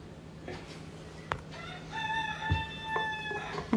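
A rooster crows in a long, drawn-out call, fairly close, with a few faint clucks and thumps around it.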